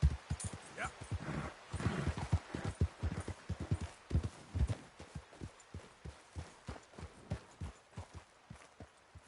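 Horse hooves clip-clop at a steady walking rhythm in the Red Dead Redemption 2 video game, close and fairly loud, with the beat quickening slightly and then settling into an even gait.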